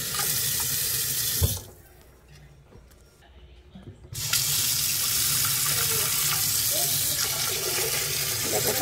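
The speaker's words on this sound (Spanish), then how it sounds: "Ahora lavamos la carne" Meat for pozole is rinsed under a running kitchen tap, a steady loud gush of water into the sink that briefly drops to a quieter trickle before surging back at full flow.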